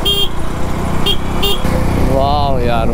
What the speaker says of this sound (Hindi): देख रहे हो बॉस कोयम्बतूर का ट्रैफिक